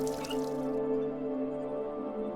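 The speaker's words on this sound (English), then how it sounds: "Hot water." In the video game The Dream Machine, hot water runs from a bathroom tap as a steady, quiet trickle with faint dripping, alone and unbroken.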